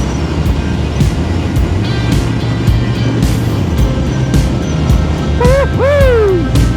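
A 2025 Honda GB350S motorcycle's exhaust gives a loud, steady, continuous rumble, with a few rising whistle-like chirps over it near the end.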